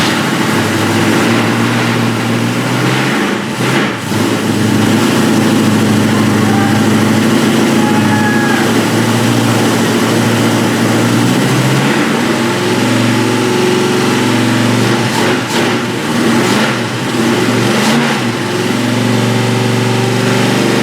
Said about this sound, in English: We're going to hear our big block run. It's gonna come to life right here. I'm gonna hit the key.